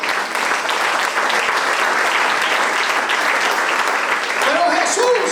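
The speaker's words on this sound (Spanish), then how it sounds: "Dar un aplauso a Cristo" A church congregation applauds during a sermon: dense, steady clapping that lasts throughout and grows slightly louder near the end, where a voice briefly rises over it.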